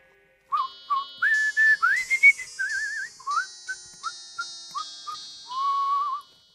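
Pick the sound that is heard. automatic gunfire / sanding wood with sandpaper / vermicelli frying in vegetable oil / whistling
whistling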